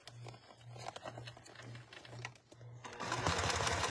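A sewing machine top stitches a clear vinyl cube in short rhythmic whirring runs with brief pauses between, then the vinyl crinkles and rustles loudly as it is handled.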